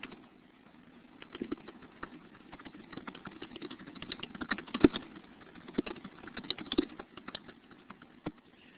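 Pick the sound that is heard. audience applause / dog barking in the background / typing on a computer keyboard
typing on a computer keyboard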